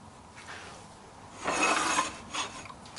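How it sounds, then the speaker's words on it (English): Sandpaper presses against a wooden chess rook spinning on a lathe, making a soft, continuous rasping hiss that swells louder midway and then eases, heard close up with no talking. "now time for sanding"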